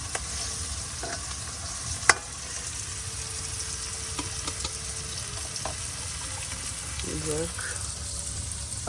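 Fish and potatoes cook in a curry, giving a low, continuous sizzle and bubbling, with a ladle knocking sharply against the pot once and a few softer scrapes and clinks.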